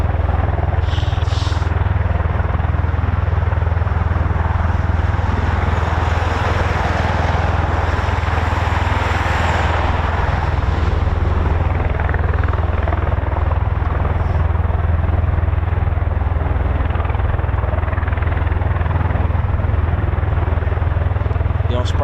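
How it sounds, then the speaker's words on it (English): CV-22 Osprey tiltrotor aircraft engines run loud and steady for the whole stretch, a dense rotor and turbine roar with a deep low throb and no break. "Ospreys do sound good, don't they?"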